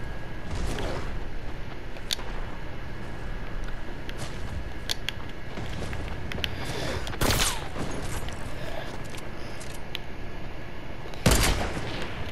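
Rapid bursts of gunfire from a shooter video game with a semi-auto weapon, crackling shots scattered through a busy in-game soundscape with a sharper, louder blast near the end.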